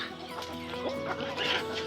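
Chickens cluck busily nearby, several overlapping short calls and squawks in quick succession over a humming background.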